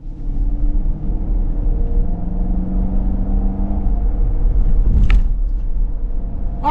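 A 2026 Dodge Durango GT with a Hemi V8 pulls away, its steady low engine rumble and road noise continuous throughout, with a brief sharper clunk or tick near the end.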